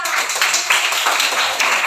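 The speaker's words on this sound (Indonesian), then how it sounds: "tepuk tangan dulu untuk kelompok 3" Classroom students clap for a presenting group, a brisk burst of close, fairly loud hand claps with slight swells in intensity over under two seconds.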